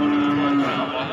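A young Limousin feeder bull calf at a cattle market lets out one loud, close, sustained moo that fills the short moment without any other voices.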